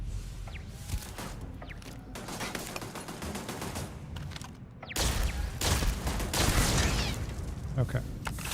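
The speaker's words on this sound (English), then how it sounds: "One of them sounds like a turret." Turret gunfire in the sci-fi shooter game Starfield, rapid bursts of shots that grow louder and denser midway, close and continuous, with no talking.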